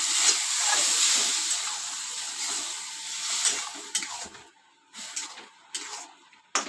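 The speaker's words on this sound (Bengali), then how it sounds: "এই বাটির মাপে আমি জল দিয়ে দেব" Water poured into a hot pan of semolina sizzles and hisses loudly at first, the hiss easing off and then breaking into short bursts of spitting and bubbling toward the end, with no talk.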